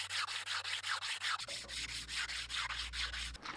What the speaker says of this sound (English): A special polishing solution is applied, smoothing the surface and giving it a clean, refined finish